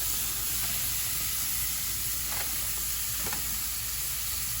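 A burger patty for a Mega Hawaiian burger sizzles on a grill, a soft, constant hiss with a couple of faint scraping ticks, heard alone without voices.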